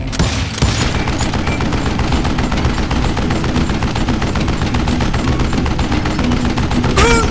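Rapid, dense gunfire from the western shooter game Call of Juarez Gunslinger, a loud continuous barrage of overlapping shots with booming low end, steady for the whole stretch.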